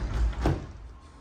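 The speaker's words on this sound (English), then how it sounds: "Sorry for the delay, I'm closing the door." A house door swings shut with a single dull thud close by, set against a low rumbling background with no talking.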